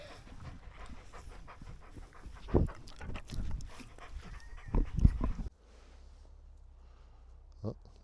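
A dog panting hard and close, rapid rhythmic breaths with snorts and a couple of louder huffs, easing off into near quiet with one last snort near the end.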